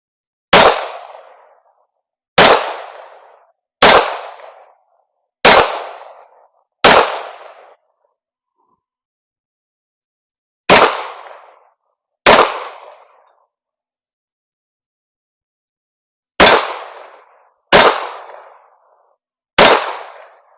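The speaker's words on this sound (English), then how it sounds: "I'll do 5 shots right-handed, and I'll do 5 shots left-handed" Ten sharp pistol shots from a Springfield Echelon 4-inch handgun fired one-handed, in two strings of five, each crack loud and close with a short ringing decay and uneven pauses between shots.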